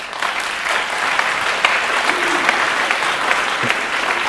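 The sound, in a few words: audience applause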